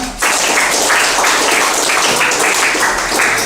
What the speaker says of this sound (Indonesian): Boleh kita kasih tepuk tangan, silakan.